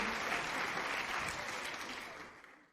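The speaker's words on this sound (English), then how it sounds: "Clap your hands." An audience claps along in a pub-themed comic sketch, a broad wash of hands that stays fairly even and moderately quiet before gradually fading toward the end.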